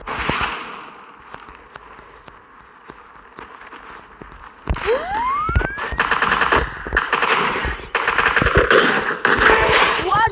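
Suppressed weapons fire in a shooter video game, rapid clattering bursts of gunshots alternating with brief gaps, growing louder and denser in the second half.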